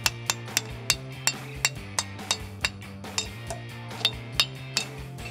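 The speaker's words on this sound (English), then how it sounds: "take our dust cap and we want to fit that back on and tap it in with a hammer." Sharp metallic taps of a hammer fitting a dust cap on a Toyota Tacoma front axle ring out one after another in an even rhythm, close and clear, with a steady tone humming underneath.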